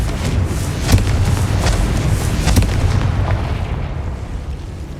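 Confringo blasting spell cast in the Hogwarts Legacy video game: a dense run of booming explosions with several sharp bursts near the start and middle, loud and close, fading into a rumbling tail.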